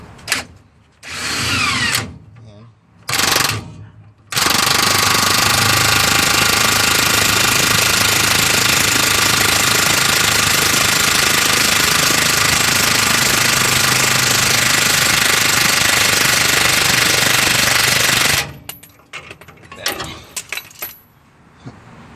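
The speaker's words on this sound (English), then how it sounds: "Just gonna put my handy dandy snap-on wrench into tighten" Snap-on impact wrench driving a torsion bar bolt on a 1993 Toyota pickup, a loud steady rattling burst lasting about fourteen seconds, with short bursts and clicks of handling before and after.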